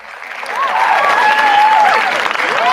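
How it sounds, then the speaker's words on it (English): Canned applause sound effect played during a talk show episode, a steady wash of crowd clapping that swells in and holds loud throughout, with some whistle-like tones riding over it. "Let's give him another round of applause."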